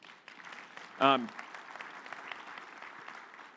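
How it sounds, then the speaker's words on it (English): An audience at a physics talk claps quietly for a few seconds, with one brief, sharp vocal burst near the start rising above the soft patter. "Yes, they deserve a clap."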